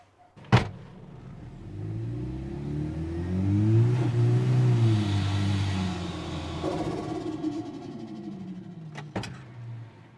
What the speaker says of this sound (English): It definitely did a burnout with ease.